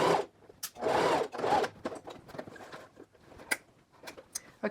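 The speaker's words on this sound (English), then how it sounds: "And I'm going to sew in the valley down a couple of inches." A sewing machine stitches a skirt seam in short bursts, each run lasting about half a second to a second, separated by brief pauses and soft handling clicks, heard up close with no talking.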